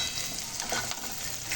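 Green chillies sautéing with ground spices, turmeric, red chilli powder and salt in a hot kadhai, giving a steady loud sizzle with stirring scrapes throughout.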